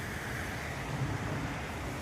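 A steady, soft rush of the River Wye flowing, unbroken and fairly distant, with a faint windy hiss over it.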